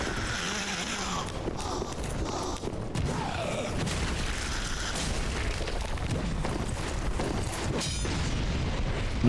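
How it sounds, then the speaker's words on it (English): Enemy breathing fire in Dark Souls III, a sustained roaring, rushing blast of flame lasting several seconds, loud and steady with crackling bursts and rumbling low end in combat. "You can breathe fire."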